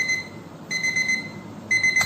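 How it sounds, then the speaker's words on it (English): An alarm clock rings in three short repeated electronic beep bursts, close and clear, with no talking. "Now the alarm went off."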